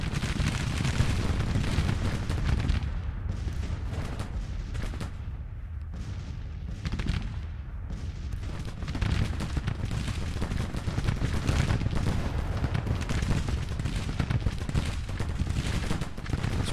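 Civil War troops fire volleys in the strategy game GT:CW 1861-1865, a dense continuous crackle of musketry and booming cannon that swells, briefly thins and surges again, loud throughout.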